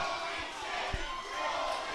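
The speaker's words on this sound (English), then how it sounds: "if you can hear what the crowd's chanting, you definitely know that was one hell of a chop" Crowd at an Absolute Pro Wrestling event in Fort Dodge chanting after a hard chop in the ring, a dense, continuous roar of voices with one sharp thud partway through.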